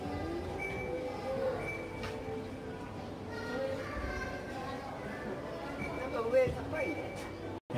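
Maria Fumaça steam train running, a continuous rumble and clatter of the old railway cars with faint whistle-like tones and squeals, while people chatter quietly nearby throughout.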